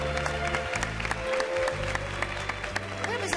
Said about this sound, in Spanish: Un aplauso para Gloria.